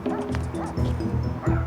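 Several dogs bark and yip in quick repeated bursts nearby, with some whimpering mixed in, loud and continuous in a dramatic scene.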